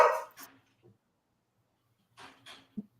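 Dogs bark as a short sound bite played during a rideshare driver livestream, with a few sharp barks at the start, a quiet gap, then more barks and yips near the end.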